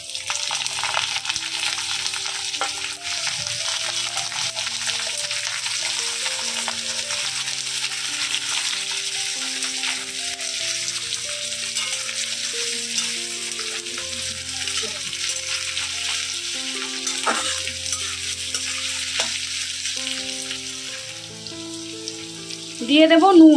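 Chopped onion fries with garlic and nigella seeds in an oiled pan for Bengali bean bharta, a steady close sizzle with occasional stirring scrapes over soft background music.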